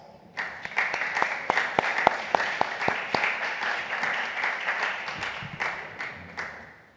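Audience applause at a women-in-entrepreneurship conference session, a dense wash of clapping with sharp individual claps standing out near the start, sustained for several seconds before tapering off.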